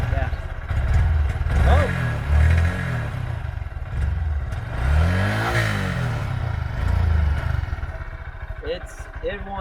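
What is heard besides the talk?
Honda Grom motorcycle engine revving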